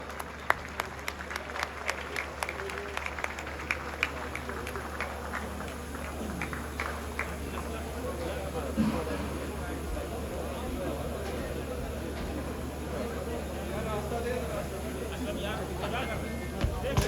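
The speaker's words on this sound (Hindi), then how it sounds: "भरपूर तालियों के साथ उनका इस्तकबाल करें।" An audience applauds at a speech event in Sialkot, welcoming a guest speaker with sustained clapping that fades into steady crowd murmur, with a voice on a microphone.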